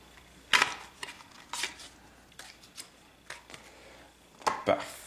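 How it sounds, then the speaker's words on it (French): Playing cards are reshuffled during a Dead Reckoning board game, a handful of crisp papery riffles and taps at close range, spaced irregularly over quiet room tone. "J'ai plus de cartes, donc on remélange les cartes."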